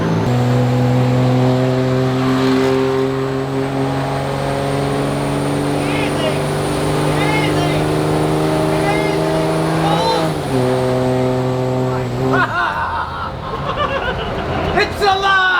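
An old vehicle's engine drones steadily while driving, a loud sustained hum with a pitch that shifts and drops near the end, accompanied by road and cabin noise and some voices.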